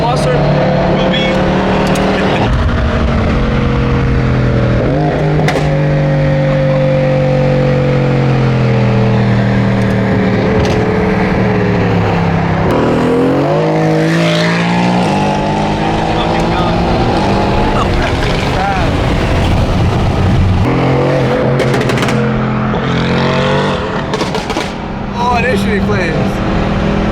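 A BMW F80 M3 drift build roars continuously along a mountain road, its engine note rising and falling through hard revving and gear changes, loud and close throughout with bursts of tyre and exhaust noise.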